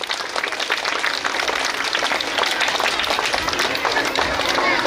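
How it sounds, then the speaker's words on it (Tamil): Dense applause from an audience at a school annual day celebration, broad and steady throughout, a sustained wash of many hands clapping together without pause. "உங்களின் சார்பாக அவர்களுக்கு உங்களுடைய கைத்தட்டல் மூலமாக நன்றிகளை தெரிவிக்கவும்."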